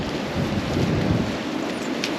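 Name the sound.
rain and thunder on a stormy day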